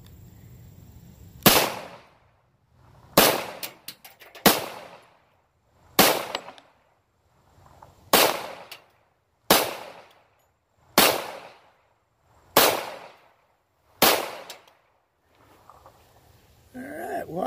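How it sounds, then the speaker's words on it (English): Nine loud gunshots fired into a bullet trap at an outdoor range, each a sharp crack with a decaying tail, spaced roughly one to two seconds apart, with quiet between shots. "All right, here we go with 9 more shots"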